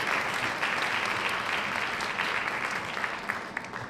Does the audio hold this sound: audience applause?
yes